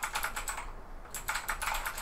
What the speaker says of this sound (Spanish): Eso es el teclado que le hemos cambiado